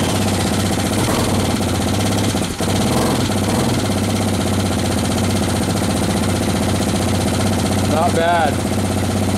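A Honda Hawk DLX motorcycle engine idling nearby, a steady even rumble holding throughout with a brief dip partway, while someone speaks briefly over it.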